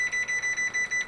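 A kitchen oven timer gives a steady run of short, high electronic beeps, about six evenly spaced pulses close to the device while it is being set for a batch of Cuban-style mojo chicken wings.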